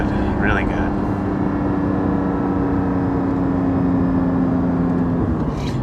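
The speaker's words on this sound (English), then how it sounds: "You can hear the exhaust." A steady, low engine drone from a Porsche GT4 sports car exhaust while driving holds at a constant pitch throughout, with brief faint chirps near the start.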